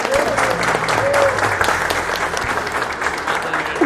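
A crowd applauds steadily at a Royal Enfield Himalayan motorcycle delivery gathering in Campinas, the clapping dense and loud throughout, with brief whistles and voices cutting through.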